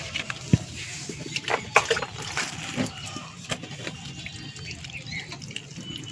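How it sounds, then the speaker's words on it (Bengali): Water poured generously onto potted portulaca plants, a splashing, trickling flow with a few sharp drips and knocks, close by and moderately loud, steady over several seconds. "আর এখন এগুলোতে আমি একটু বেশি করে জল দিয়ে দেব"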